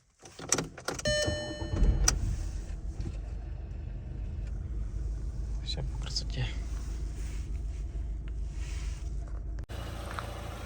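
A car engine, from a Skoda Fabia hatchback, Volkswagen Golf 5 or Dacia Logan estate, idles steadily with a low, continuous rumble, nearby, with a few clicks and brief sounds at the start.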